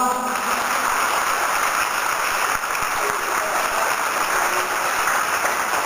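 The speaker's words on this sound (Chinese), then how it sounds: "我们大家给他们掌声好不好？" Sustained audience applause fills the hall after students and their teachers are introduced at a school event, a dense, steady patter of many hands clapping at even loudness throughout.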